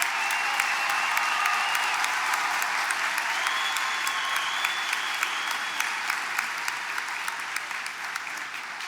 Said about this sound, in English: accept our applause.